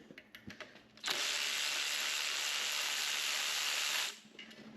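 A steady three-second hiss with a mechanical texture during a Mazda RX8 engine teardown, loud and close, bracketed by faint clicks and shuffling before and after, with no speech.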